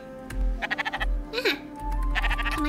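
A sheep in the Spiritfarer game gives a short quavering bleat amid a busy backdrop of croaking, rhythmic animal calls and soft ambient tones.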